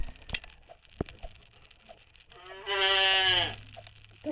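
A goat in the video game 99 Nights in the Forest lets out one wavering bleat of about a second amid quiet footsteps and scattered clicks.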